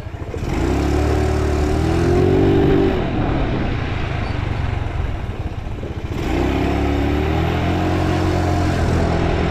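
A trail-style motorcycle engine revs hard twice, each surge climbing, then falling back to a steady rumbling idle, loud and close with no talking.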